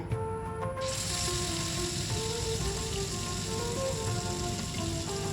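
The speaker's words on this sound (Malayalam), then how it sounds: "ഫ്രൈ ചെയ്തെടുക്കുകയാണ് ചെയ്യുന്നത് പാനിലേക്ക് വെച്ച് ഓയിൽ ഒഴിച്ചിട്ട്" Chicken thighs frying in oil in a pan, a steady dense sizzle with a rain-like patter that holds loud and even throughout, with no talking.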